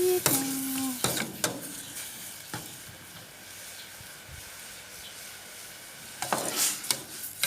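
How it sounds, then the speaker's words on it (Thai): Already-cooked pork being briefly stir-fried in a hot pan for Thai nam tok moo, with sizzling and spatula scrapes in short bursts at the start and near the end and a quieter sizzle in between. "ไม่ต้องรวนนานนะคะ เพราะว่าหมูเราสุกอยู่แล้ว ร้อนพอสักนิด"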